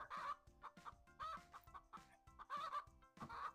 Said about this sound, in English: Chicken jockey.